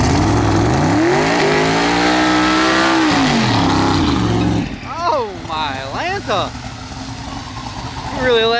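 A small-tire Mullet drag car at a peanut festival revs hard on the two-step during testing. The engine sits close and loud, first a sustained rising and falling roar, then sharp, choppy revs that sweep up and down in quick bursts.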